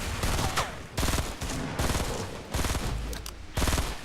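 Rapid bursts of video game gunfire crackle in several loud volleys separated by brief pauses, dense and continuous like automatic weapons in a shooter match.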